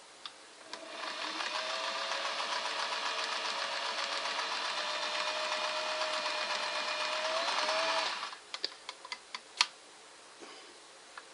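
A Singer Model 404 sewing machine runs steadily for several seconds, stitching a longer stitch through thick layered fabric with a whirring hum, then stops, followed by a few sharp clicks and taps.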